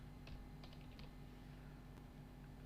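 Quiet typing on a computer keyboard, a short run of soft key taps followed by a single later tap, with no talking.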